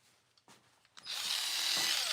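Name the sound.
Ryobi power tool running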